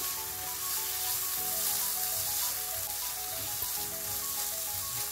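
Tomatoes with salt sauté in hot oil in a pan for paneer bhurji, giving a continuous soft sizzle and hiss, steady and fairly quiet, with no voices.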